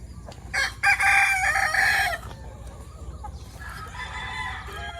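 A rooster crows loudly and close by, with a second, rougher crow following, while breeding chickens and young pullets cluck softly in the background on a backyard farm.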